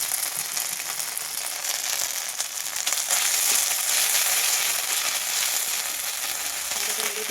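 Ginger paste sizzles and spits in hot mustard oil in a kadai, a steady bright frying hiss running close and loud throughout with faint stirring scrapes, no voices.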